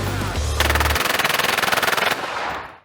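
Rapid automatic gunfire at an outdoor shooting range, a loud close burst of evenly spaced shots rattling for over a second before ringing off into echo.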